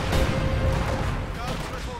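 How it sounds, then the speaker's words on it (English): Heavy mortar shells land in a battle game, a dense continuous rumble of distant booming impacts and gunfire filling the whole stretch, with voices faintly under the barrage. "Heavy mortars continue landing"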